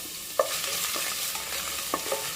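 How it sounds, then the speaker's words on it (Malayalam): Dried red chillies, ginger and garlic frying in hot oil in a pan for pepper chicken, a close, steady sizzle punctuated by a few sharp clinks and scrapes of stirring. "ഇനി വറ്റൽ മുളക് ഒന്ന് ചെറുതായി ചൂടായി വന്നപ്പോൾ ഇഞ്ചി, വെളുത്തുള്ളി രണ്ടും നമ്മൾ ഇട്ട് കൊടുത്ത്"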